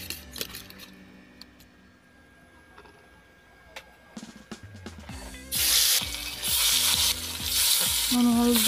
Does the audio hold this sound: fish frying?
yes